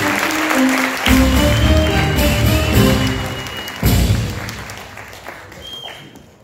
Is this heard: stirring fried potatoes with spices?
no